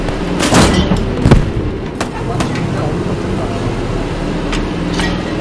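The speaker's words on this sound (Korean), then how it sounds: "계속 지속 사격." Continuous gunfire in the WWII shooter game Post Scriptum, with sharp bursts and a few heavy booms over a rumbling battlefield background, close and fairly loud.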